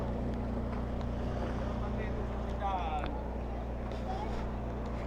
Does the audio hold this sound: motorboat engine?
yes